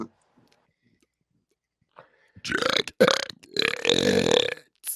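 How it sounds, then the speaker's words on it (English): A person forces out a long, deliberate burp, loud and close, in two drawn-out belching bursts after a brief throat sound, with near silence before. "Someone listening at home, like not expecting, didn't even see you try to do that, and then just got their ears burped in"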